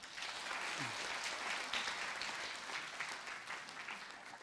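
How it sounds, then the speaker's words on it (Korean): A church congregation claps after an infant baptism is proclaimed during a Sunday service: quiet, steady applause from the pews, evenly sustained with a faint distant voice beneath it. "박수 한번 주세요"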